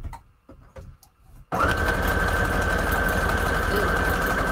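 A sewing machine runs continuously after a brief pause with faint rustling and handling sounds, its steady, rapid mechanical stitching loud and close with a constant whirring drone.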